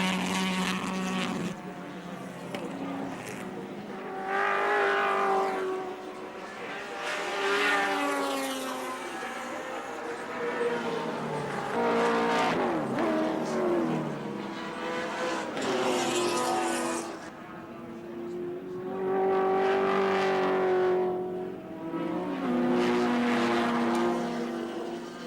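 A BMW touring car races at Wanneroo in a 1984 ATCC round, its engine note rising and falling as it passes through the esses, several loud passes and pitch sweeps with no talk.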